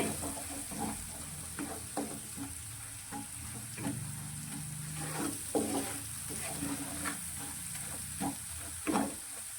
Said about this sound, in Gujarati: મસાલા આપણા સારી રીતે સંતળાઈ ગયા છે